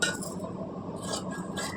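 Scissors snip through cloth to cut a boat neck princess-cut pattern, with a few quiet, close crisp cuts spaced out over a soft background.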